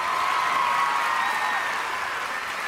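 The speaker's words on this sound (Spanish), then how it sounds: "¡Le damos un fuerte aplauso!" A crowd applauds at a television show presentation, a dense, continuous wash of clapping and cheering that holds steady and loud, with a faint sustained tone running beneath it.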